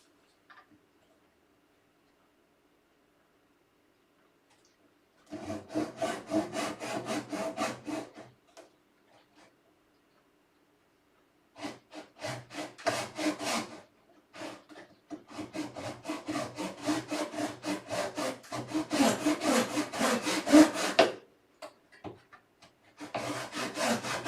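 A fine-bladed hand saw cuts through wood in bursts of quick, rhythmic strokes, close and fairly loud, separated by short pauses of silence.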